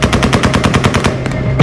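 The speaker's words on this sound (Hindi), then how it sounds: "वहां गोलियां चलने की आवाजें भी आती रही" Automatic gunfire rings out at Kabul airport amid crowds gathering there. It comes as a loud, rapid, evenly spaced burst of shots that runs continuously and then stops abruptly.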